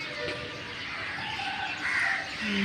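Crows caw now and then amid a steady wash of morning outdoor ambience in Kakinada, India, moderately loud with no one speaking.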